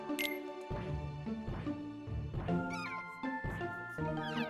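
Meow Wow spirit in the Kingdom Hearts Dream Drop Distance video game gives repeated cartoonish meow-like calls over a few seconds, loud and clear amid game music and chiming effects.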